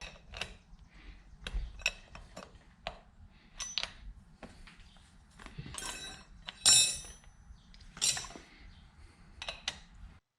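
A wrench works a nut loose on a 2003 Honda Shadow 1100 engine during cylinder head removal, producing scattered metallic clinks, scrapes and taps, some sharp and bright, spread irregularly over a quiet background.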